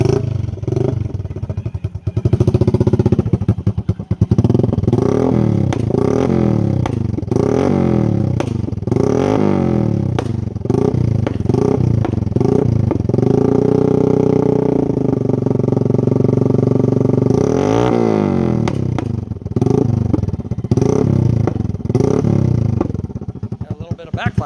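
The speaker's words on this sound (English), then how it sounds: "My custom exhaust on my Suzuki Smash. Now let's start it up one more time and see how it sounds." A Suzuki Smash moped fitted with a custom race exhaust runs loud and close, its engine buzzing and revving up and down in repeated bursts with rattly clatter throughout.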